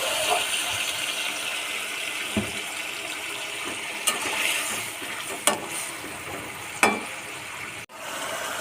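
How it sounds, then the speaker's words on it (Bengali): Water pours into a hot pot of jackfruit curry, giving a steady rushing hiss and sizzle broken by a few sharp clicks and knocks, with no talking. "পরিমাণ মতো জল দিয়ে দেবো"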